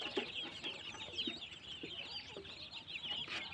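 Hmong chickens cluck in repeated short calls while feeding on discarded vegetable leaves at a hill-farm yard at dusk, a steady flock chatter with no talk.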